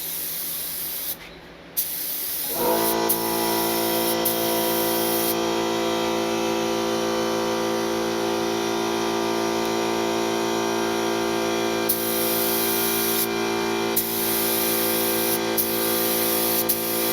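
Harbor Freight purple spray gun applying 2K clear coat to a car headlight: after a brief quiet start, a loud continuous compressed-air spray hiss runs steadily with short breaks in the airflow.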